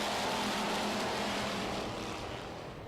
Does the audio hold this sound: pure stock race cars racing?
yes